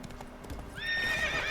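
Roach, the horse in The Witcher 3, clip-clops a few hooves and then lets out a loud, shrill neigh near the end, brief and close.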